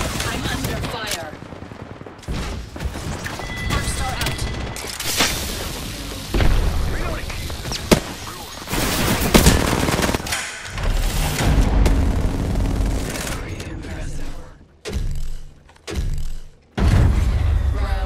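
Rapid automatic gunfire and heavy booms from an Apex Legends match ring out in dense, loud bursts with brief pauses. Bursts cut off sharply near the end.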